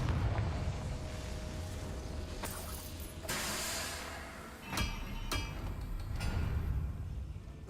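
Fiery Confringo spell blasts from the video game Hogwarts Legacy: several sharp, loud explosive bursts at irregular intervals over a steady rumbling game backdrop, with no talking.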